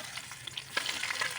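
Spice paste hits hot oil in a pan where bitter gourd was just fried, giving a close, crackling sizzle with sharp spattering pops and stirring scrapes, steady and fairly loud with no talk.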